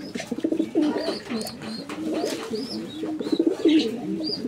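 Several white racer pigeons in full breeding mode coo in repeated soft, throaty bursts, close up and fairly busy, with faint chirps mixed in and no talk.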